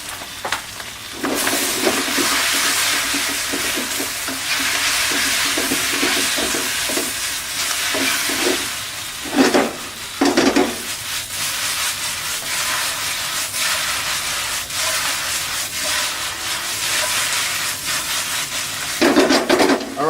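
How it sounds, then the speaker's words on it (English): Kwai Teow Pad Kee Mao noodles stir-fried with oyster sauce in a hot pan: a steady bright sizzle runs throughout, broken by repeated scraping and clattering strokes of the utensil against the pan. "I'm going to add some oyster sauce now."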